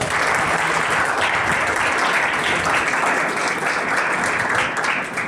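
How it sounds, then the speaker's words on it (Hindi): A ceremony audience applauds certificate of appreciation winners at an awards event, with loud, sustained clapping from a large crowd that stays steady throughout. "इनके लिए एक जोरदार तालियां।"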